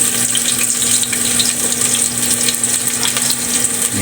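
Garlic dropped into a hot frying pan while cooking pork humba, giving a steady, close, bright sizzle and crackle that holds without a break and with no talk.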